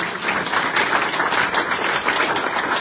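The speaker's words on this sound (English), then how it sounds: "Can we give another round of applause to these students?" An audience applauds students at a program event, steady dense clapping from a crowd throughout, moderately loud and without talk.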